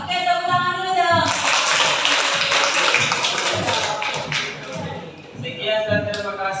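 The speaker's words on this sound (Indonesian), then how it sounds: "Oke, tepuk tangan dulu dong." Children in a classroom clap together after a classmate's presentation, a dense burst of clapping lasting a few seconds between stretches of speech.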